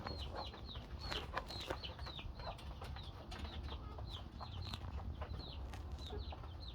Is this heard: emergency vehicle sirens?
no